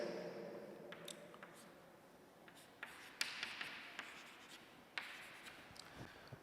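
Writing a chemical structure during an organic chemistry lecture: faint, close scratching strokes and small taps of the pen or chalk, spaced irregularly over a quiet background.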